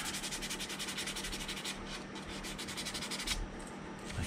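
Sandpaper of 180 grit rubs back and forth over a plastic seam on a 1:350 scale model starship, giving a steady, close scratchy hiss with quick repeated strokes.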